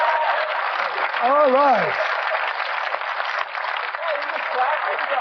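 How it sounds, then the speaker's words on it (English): A studio audience at a stand-up comedy panel show claps in a steady, sustained wash of applause while a voice briefly speaks over it. "I try not to encourage applause between each segment"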